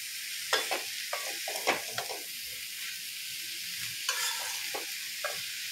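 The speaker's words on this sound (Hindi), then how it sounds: "अब इसे मिक्स कर देते हैं अच्छी तरह से" Chopped prawns in poppy-seed masala being stirred in a pan, with a soft steady sizzle and a few sharp scrapes and clacks of the spoon, fairly faint and with no voices.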